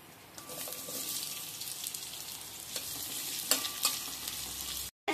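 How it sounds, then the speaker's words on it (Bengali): Onions fry in oil in a wok with garlic and whole cumin, making a continuous close sizzle with occasional sharp crackles and a brief dropout near the end. No one speaks. "পেঁয়াজটা ভাজা হয়ে গেছে"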